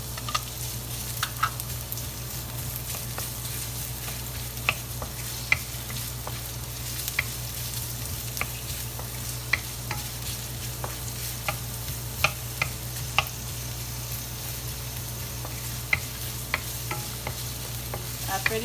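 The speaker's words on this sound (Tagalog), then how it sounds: "At ilalagay na po natin itong sibuyas pag mainit na po." Onion sautéing in hot oil for pork dinuguan, a steady soft sizzle running throughout with occasional light clicks of a utensil stirring in the pan, no talk.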